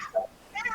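A cat meows twice up close, a short, bright first call and then a longer wavering one, with no other sounds around.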